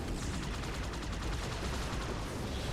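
Rapid, sustained gunfire from a Ghost turret in Halo 2, a dense continuous burst of shots that fills the whole stretch at steady loudness with no pauses.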